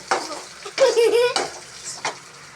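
Green chilies, ginger and garlic being sautéed in a pan give a soft sizzle with spoon scrapes and stirring clatter, plus a short loud burst of activity near the middle; no one speaks.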